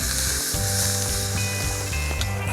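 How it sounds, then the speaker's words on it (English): Beef top blade roast searing over a Weber kettle grill, a dense, steady, loud sizzle with a faint tonal hum running beneath it throughout, no one speaking. "Now we'll sear the other side."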